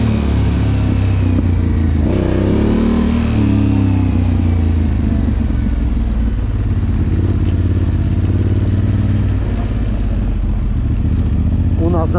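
A Yamaha MT-07 motorcycle with a Raptor swap rides through town, its engine loud and close with a constant mid-pitched drone, wind buffeting and a brief rev, while a rider's voice talks over it.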